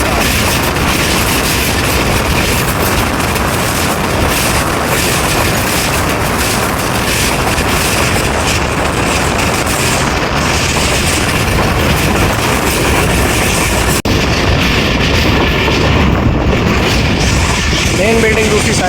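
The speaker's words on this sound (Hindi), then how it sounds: "दमेली पास हो रहा है जी 13 पवाम एक्सप्रेस के साथ" The 13 Pawam Express rolls past Dameli station on the Gujrat to Attock line as a continuous loud rumbling roar of wheels and carriages, heard from close by for the whole stretch without pause.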